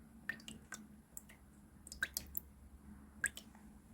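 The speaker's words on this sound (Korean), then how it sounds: "물이 똑똑똑똑 떨어집니다." Water drips in scattered, irregular drops from a potted plant after an insecticide treatment against scale insects, small soft splats over a quiet background with no speech.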